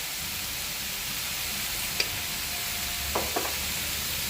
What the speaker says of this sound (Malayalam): 1 ടേബിൾ സ്പൂൺ വിനിഗർ എല്ലാം കൂടിയിട്ട് നല്ലതുപോലെ വഴറ്റാം